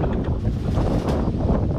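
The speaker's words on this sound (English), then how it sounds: "It is so windy." Strong stormy wind at a spring carp fishing lake buffets the microphone in a constant low roar, with rushing gusts throughout and no voices.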